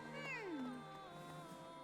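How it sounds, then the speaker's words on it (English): A cat in the video game Fire Emblem: Three Houses gives one clear, close meow that rises and then slides downward, over a soft steady background hum. "A cat!"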